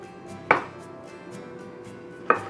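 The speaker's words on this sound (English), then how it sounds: "But I'm just going to cut a few wedges out of this." A very sharp knife cuts through ripe tomatoes into wedges on a board, two distinct crisp chops about two seconds apart over a quiet kitchen background.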